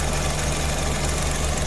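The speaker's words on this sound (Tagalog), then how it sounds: "tahimik na yung makina." A car engine idles after coolant bleeding and a thermostat change, a steady, even low rumble with a faint regular hum that holds at a constant level throughout, with no talking.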